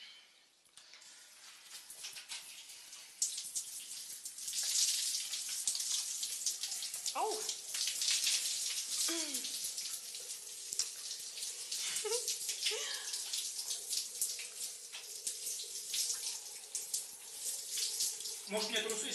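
Water runs steadily from a tap, splashing close by as a person is rinsed off, while someone speaks briefly over the flow.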